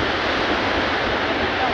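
Floodwater rising and surging during a typhoon makes a steady, loud rushing roar that does not let up, with a windy, wave-like wash throughout.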